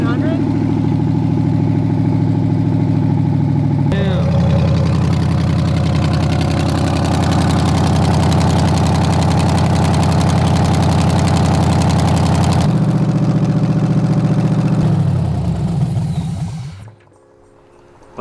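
An LS V8 swapped into a Chevrolet S10 idles loudly and steadily after a cold start, with a brief shift in tone around four seconds and another near thirteen, then the engine cuts off and fades to quiet at the end.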